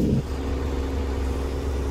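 A vehicle engine spools up before a gear change, a steady, loud mid-pitched drone running throughout with no break.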